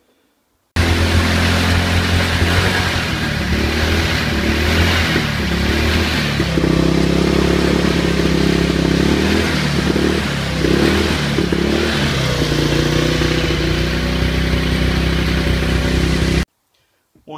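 A Pulse Rage 125cc motorcycle engine, running again after green sludge was cleared from its fuel system, idles steadily and loudly up close with slight rises in revs for about fifteen seconds, then cuts off abruptly.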